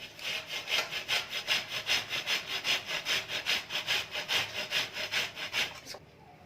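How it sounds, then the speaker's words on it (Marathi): Roasted, softened cauliflower rubbed against a hand grater in steady back-and-forth strokes, about two dozen rhythmic rasping scrapes at close range, stopping just before the end. "आता खिसणीने खिसून घ्यायचं आहे कापून वगैरे घ्यायचं नाही खिसून घ्यायचं फ्लावर"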